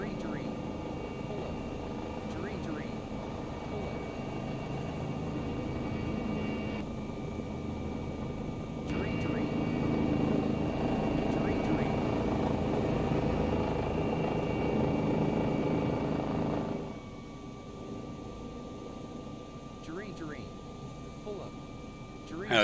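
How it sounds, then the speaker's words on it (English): EC135 helicopter rotor blades in a flight simulator game make a steady, muted whirring drone that swells slightly midway and then eases off near the end. "You helicopter pilots sitting there just cringing hearing that those helicopter blades doing what they're doing"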